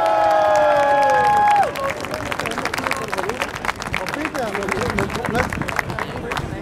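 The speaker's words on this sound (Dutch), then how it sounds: "Uw applaus, dames en heren, voor Seb van Marken!" At the podium ceremony of the 2018 Omloop Het Nieuwsblad cycling race, a crowd claps and cheers with busy babble. A falling tonal sweep opens the scene before the applause takes over.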